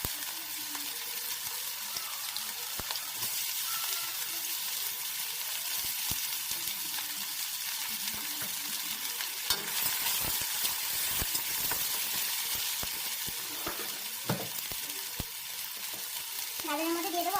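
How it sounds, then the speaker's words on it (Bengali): Carrots fry in well-heated oil in a home kitchen pan with a steady dense sizzle and occasional clicks and stirring scrapes throughout, close and unbroken, no talk. "তেল খুব ভালোভাবে গরম হয়ে গেছে, এখন আস্তে আস্তে এর মধ্যে গাজরগুলো দিয়ে দেবো।"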